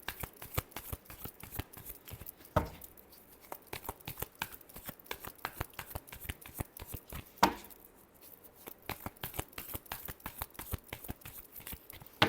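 Tarot cards being shuffled by hand at close range, a quiet, fast rapid riffle of papery flicks running steadily throughout, with two sharper louder snaps standing out along the way.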